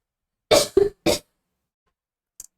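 Three sharp, close coughs follow one another in quick succession from a single person, then silence and a tiny faint click.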